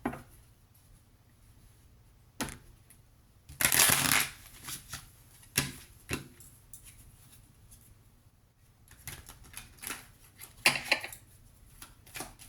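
Tarot cards are shuffled in bursts, with a loud riffle and crisp flicks and taps of the deck, quiet pauses between them and no talking.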